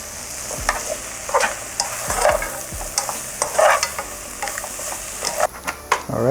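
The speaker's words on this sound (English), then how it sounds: "We'll just keep stir frying until everything is soft." Carrots and mushrooms stir-frying in a pan for stir fry noodles, a steady close sizzle broken by repeated scraping stirs and clatters of the utensil, with no talking.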